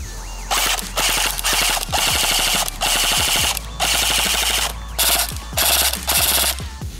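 A Lancer Tactical M4 CQBR MK18 airsoft gun running on an 8.4 volt battery fires on full auto in several loud, rapid mechanical bursts, each a fast rattling string of shots with brief gaps between them.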